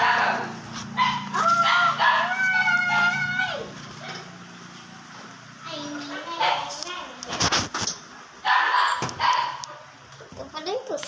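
Several dogs bark, yip and whimper excitedly around food, the sounds close and repeated in uneven bursts, mixed with people talking nearby.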